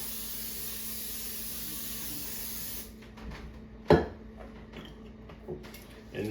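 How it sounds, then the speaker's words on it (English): Vegetable oil cooking spray hisses steadily onto an aluminum foil-lined baking sheet for about three seconds, then stops; faint clicks and handling noises of the pan follow. "I'm going to spray it with some vegetable spray."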